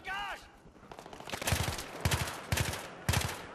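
Bursts of Battlefield 3 assault rifle gunfire in a cooperative mission, four loud rapid volleys at regular intervals after a brief electronic tone, with no talk.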